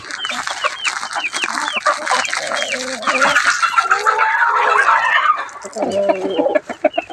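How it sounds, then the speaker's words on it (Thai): Many chickens cluck and squawk together close by at a temple in Lampang, Thailand, in a busy, continuous chorus, with a few voices talking underneath. "ก็ไก่กินตรงนี้"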